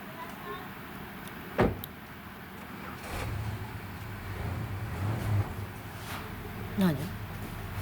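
A car door shuts with a sharp thump, then a car engine starts and pulls away outdoors, heard faint and from some distance.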